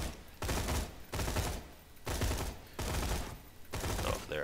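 Dahl assault rifle in Borderlands 2 firing in loud, rapid automatic bursts, five or six sustained volleys separated by brief pauses, close and dense with no talking.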